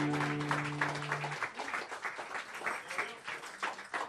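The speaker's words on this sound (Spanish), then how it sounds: "Dele fuerte el aplauso al Señor" A church congregation claps for the Lord, a dense wash of applause with scattered sharper claps that carries on steadily from start to finish, loud and roomy, while a sustained organ or keyboard tone fades out early on.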